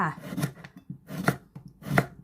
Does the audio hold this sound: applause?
no